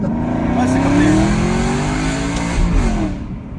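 Car engine revving hard as it accelerates, pitch climbing then dropping briefly as the throttle lifts for a gear change before pulling again, loud and close inside or beside the car.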